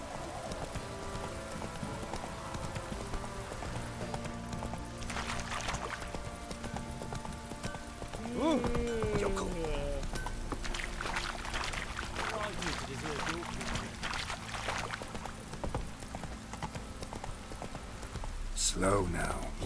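Hooves of the horse Roach galloping in The Witcher 3: Wild Hunt, rapid steady clip-clop under a voice speaking at moments, with splashing and ambient game sounds.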